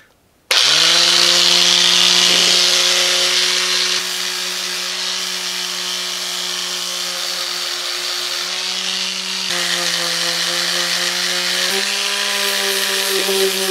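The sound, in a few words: sanding with 220 grit sandpaper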